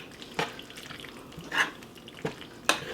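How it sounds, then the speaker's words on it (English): Cooked macaroni being stirred into a cheesy mixture, a few soft, wet squelching strokes spaced apart, quiet and close. "I have here about 4 cups of macaroni that I'm going to just stir into that cheesy mixture"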